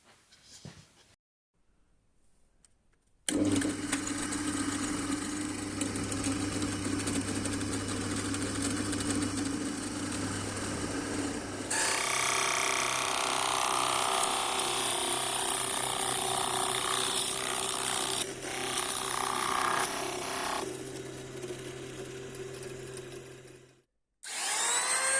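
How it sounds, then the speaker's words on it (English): A drill press boring finger holes in a shop-made zero-clearance table saw throat plate: the motor starts abruptly and runs loud with a steady hum, the cutting grows harsher partway through, then the motor spins down and stops. "So now it's over to the drill press to drill a couple of finger holes."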